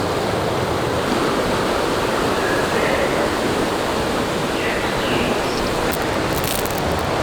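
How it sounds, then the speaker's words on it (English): Several rainforest creeks meet at a junction beside a mossy boardwalk, giving a steady, dense rush of flowing water that stays constant and fairly loud throughout. "this is where a couple of different creeks come into a junction"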